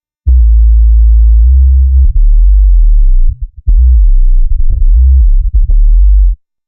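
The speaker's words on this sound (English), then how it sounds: "And this is just the sub-bass with ReSub." A synthesized sub-bass from the B.S ReSub plugin plays alone as deep, loud, sustained low tones, broken into short notes with brief gaps between them.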